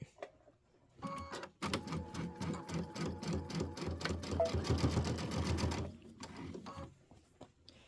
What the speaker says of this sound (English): And we're going to sew this on